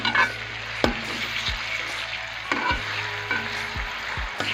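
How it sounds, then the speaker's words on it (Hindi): Onions frying in hot ghee sizzle continuously and close, with several dull knocks from stirring in the pan. "अब हम इसमें प्याज ऐड करेंगे।"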